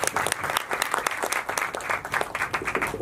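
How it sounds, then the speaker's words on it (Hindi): Sustained applause from an audience at a Bollywood video song launch and screening, dense clapping that fills the whole stretch with steady, lively energy and no voices over it. "तो जोरदार तालियां पहले"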